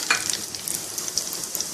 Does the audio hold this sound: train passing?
no